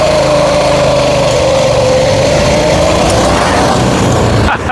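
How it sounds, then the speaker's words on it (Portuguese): A homemade bike pusher with a 212cc engine launching from a standstill, its loud, close engine revving high and steady throughout before cutting off abruptly at the end. "vamos fazer uma arrancada aqui agora"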